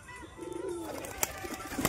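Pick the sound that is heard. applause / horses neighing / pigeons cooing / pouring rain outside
pigeons cooing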